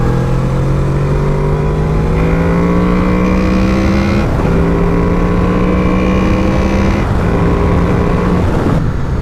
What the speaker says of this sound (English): I love the sound of this engine. It's a V4 VTEC.